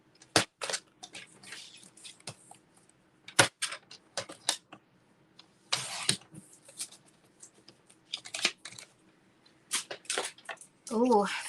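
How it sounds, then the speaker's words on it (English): Scissors cutting a sheet of paper to a smaller size at a craft table, several brisk snipping and rustling bursts spread across the moment, close and fairly loud with quiet gaps between. "I just need to cut this paper a little smaller."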